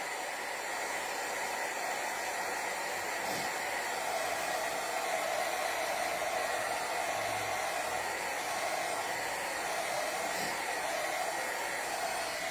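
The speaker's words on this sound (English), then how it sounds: "Let me put a little bit of heat on these for just a minute, you guys, just to make sure they're dry" Hair dryer blowing hot air over craft pieces to dry them, a loud, steady rushing hiss that runs unbroken and alone for the whole stretch.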